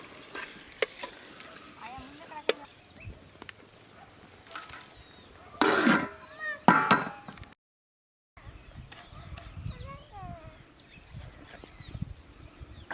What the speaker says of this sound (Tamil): அப்படியே ஒரு கிண்டு